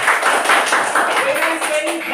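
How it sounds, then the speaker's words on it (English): Children clapping together in a morning science class, a quick run of light, fairly even claps, close and steady, with a faint voice heard partway through. "So please clap"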